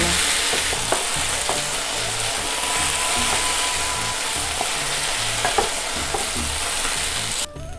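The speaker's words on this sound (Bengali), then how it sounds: "ভাজা হয়ে গেছে, আমি তুলে নেব" Steady, loud sizzling of chicken frying in hot oil, with occasional soft clinks and scrapes, no voices, ending abruptly near the close.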